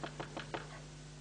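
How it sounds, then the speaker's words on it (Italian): Four quick knocks land on a door in a scene from the 1990 telenovela Mi pequeña soledad, soft and evenly spaced over a steady low hum, with no talk. "Non senti che bussano alla porta?"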